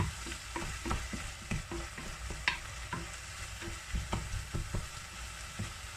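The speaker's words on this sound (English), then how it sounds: "we don't want to be over frying the garlic" Garlic fries in a pan for pasta, with steady sizzling and frequent stirring scrapes that come in an uneven rhythm, close and moderately loud, with no talking.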